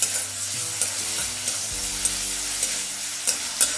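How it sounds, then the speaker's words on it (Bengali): Garlic, green chili and tomato stirred in white oil in a pan, with a steady sizzle and repeated scraping strokes of a spoon through the frying mixture, close and continuous. "তো ভালোভাবে আমি 1 মিনিট এটা নেড়ে নিলাম"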